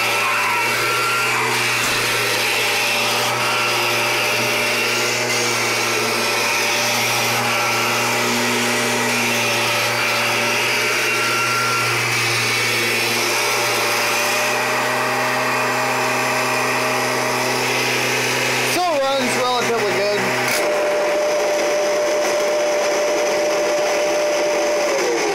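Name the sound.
Kirby G4 1994 upright vacuum cleaner running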